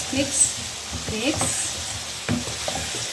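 Chicken pieces are stirred in a hot pan, with scraping and shuffling over a moderate sizzle and a couple of firmer knocks of the spoon.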